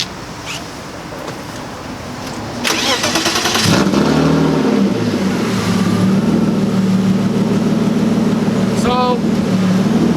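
A BMW E36 cranks briefly and fires up, then settles into a steady idle close by, with a faint voice earlier and a short squeal near the end.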